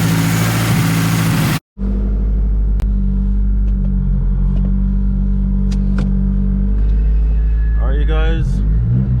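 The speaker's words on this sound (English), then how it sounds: "you guys can hear, this clutch is so loud. Twin disc clutch." A loud twin-disc clutch in a big-turbo Hyundai Genesis Coupe rattles and chatters under a steady low engine rumble while driving, with a brief silent dropout early on and a short voice near the end.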